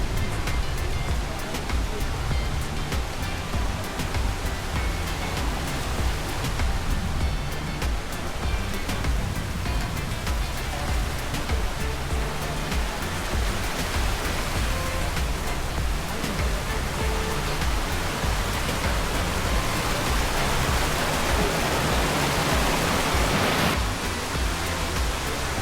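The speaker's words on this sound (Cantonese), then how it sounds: "瀑布好正喺度。" A waterfall pours down a rocky mountain stream in Hong Kong's Sai Wan area, giving a loud, constant roar of rushing water that holds steady throughout, with faint voices now and then.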